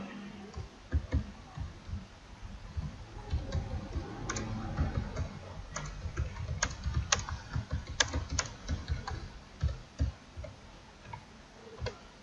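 Computer keyboard keys clatter in an irregular, steady stream of close, crisp keystrokes as text is typed, with no talk over it.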